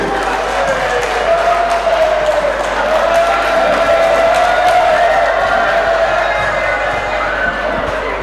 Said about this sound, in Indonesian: Tepuk tangan yang meriah Bapak Ibu.